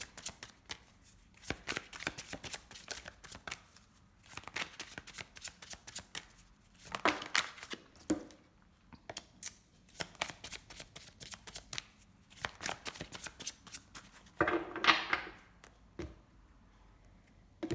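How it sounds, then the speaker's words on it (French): Oracle cards being shuffled and cut by hand during a reading, with repeated soft riffling bursts and papery flutters broken by brief pauses, close and quiet. "Je vais commencer avec l'oracle coup de cœur. Je vais faire une coupe."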